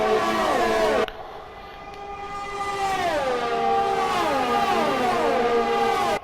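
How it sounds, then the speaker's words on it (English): Formula 1 cars in the F1 2020 video game at the Russian Grand Prix, a loud sustained engine whine with several cars' pitches sweeping down and up as they pass, steady and close with no talk. "Just listen to these cars. Man, these cars sound good and look good."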